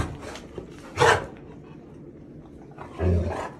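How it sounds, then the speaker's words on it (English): A dog gives two loud, deep, gruff barks about two seconds apart, close by, with quieter background noise and faint sounds between them. "You're just barking."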